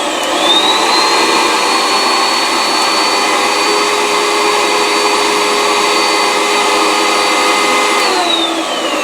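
A vacuum former's vacuum pump runs steadily and loudly, a constant whining drone with a rising tone at the start and a drop near the end.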